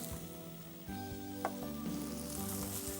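French beans sizzle steadily in a hot pan, a continuous close frying hiss with a few brief clinks and stirring sounds as the beans are tossed.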